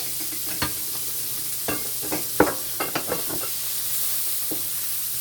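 Onion and thyme sautéing in a pan for a white pasta and shrimp dish: a steady soft sizzle with scattered utensil scrapes and taps from stirring, close and moderately quiet.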